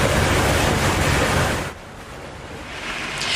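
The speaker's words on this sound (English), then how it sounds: "Crews were busy dousing the burnt three-story building with water hoses" Fire crews spray water hoses onto a burnt three-story building, a loud, dense rushing hiss that dips briefly and then swells again.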